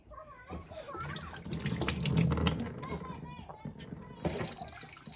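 Water runs from a small hand pump fed by 5-gallon buckets into an off-grid kitchen sink, a close splashing trickle that swells and fades in uneven spurts while a voice talks over it.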